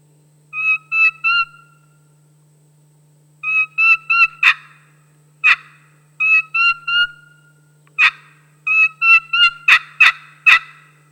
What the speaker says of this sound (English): the pleading sound comes from actually slowing your striker down and getting that desperate sound of a lost turkey